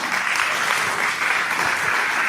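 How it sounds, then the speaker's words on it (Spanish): A church congregation at a communion service claps together in a dense, steady round of applause that stays even and unbroken throughout. "Es un aplauso a Dios, mi hermano"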